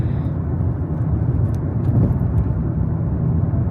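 Car engine and road rumble from inside a vehicle crawling through town traffic, a steady low drone held throughout at moderate loudness, with no talk over it.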